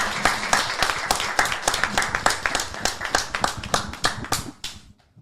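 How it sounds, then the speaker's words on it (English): Small live audience at a podcast recording clapping for a guest, distinct individual hand claps in an uneven, close rhythm that thin out and stop near the end. "Can we give her a round of applause, y'all?"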